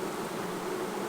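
Honeybees buzz in a dense, steady drone around a hive in a summertime beeyard, close and continuous with no voices.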